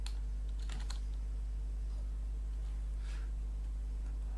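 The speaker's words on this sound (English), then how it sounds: "when I start typing it in, it comes up" Fingers tap out a short burst of keystrokes on a computer keyboard, light and close, then scattered clicks over a steady electrical hum, with no voices.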